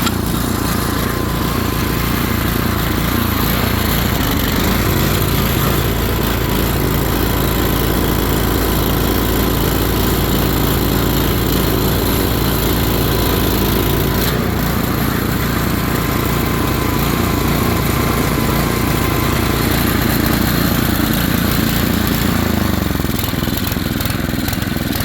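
A small snow blower engine runs steadily at a high-pitched, buzzing idle, loud and close with a constant droning rattle.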